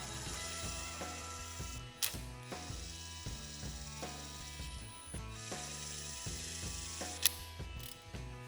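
Cap screws on a Wedgelock C6 quick coupler being tightened, quiet repeated ratcheting strokes with a steady mechanical texture, a few sharper clicks standing out.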